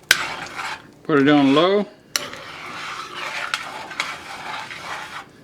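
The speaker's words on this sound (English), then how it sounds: "About halfway through, you're going to want to stir this up." Metal spoon scraping and stirring Cajun jambalaya rice in a pot on a low electric stove, a few clanking scrapes and rustles following a short spoken remark, close and moderately loud.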